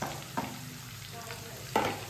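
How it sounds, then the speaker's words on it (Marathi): Onion fries in hot oil in a kadhai, a soft continuous sizzle broken by two distinct scraping stirs, the second louder and close. "कांदा चांगला खरपूस भाजलेला आहे"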